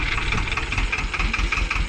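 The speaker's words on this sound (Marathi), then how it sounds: "आता स्टार्टर मारलेला आहे ट्रॅक्टरचा" A tractor engine runs steadily nearby at night during millet sowing, a loud throbbing diesel rumble with rhythmic knocking pulses.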